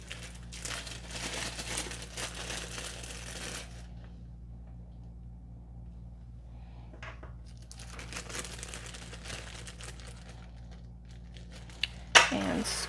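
A plastic parts bag from an MMU3 upgrade kit for a Prusa MK4 printer is handled and opened to reach a coupler, giving bursts of close crinkling and rustling separated by a quiet stretch, with one sharp crackle near the end.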